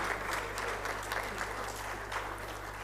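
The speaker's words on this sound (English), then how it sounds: "A huge round of applause to our ExCom team" Conference audience applauding steadily in a hall, a dense wash of clapping that holds at an even level from start to finish with no voices over it.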